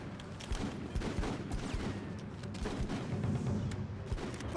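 Squad gunfire in the video game Full Spectrum Warrior: Ten Hammers: dense overlapping rifle and machine-gun bursts rattling continuously at steady loudness, with distant booms mixed into the firefight.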